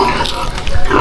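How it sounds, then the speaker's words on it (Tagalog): Pigs on a farm grunt and oink close by in quick, overlapping bursts. "Daming baboy dito."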